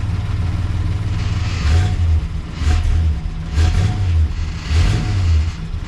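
A 1958 Packard V8 engine running rough with a tired accelerator pump, revving in repeated throaty bursts over a steady low idle, loud and close throughout with no talk.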